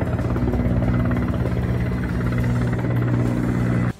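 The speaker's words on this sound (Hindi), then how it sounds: "दमकल की गाड़ियों के साथ हेलीकॉप्टर को भी उसे बुझाने के लिए लगाया गया" Helicopter deployed alongside fire engines to fight a blaze engulfing a research centre building, a loud, continuous low rotor drone with steady throbbing that cuts off abruptly at the end.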